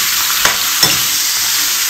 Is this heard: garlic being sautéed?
yes